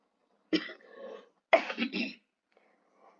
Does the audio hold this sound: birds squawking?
no